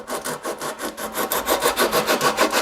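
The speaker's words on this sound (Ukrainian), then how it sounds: "Потім беремо наждачку, зачищаємо саму коробку." Rhythmic scraping of sandpaper rubbing back and forth over a metal box, loud and close, with steady strokes repeating quickly and evenly.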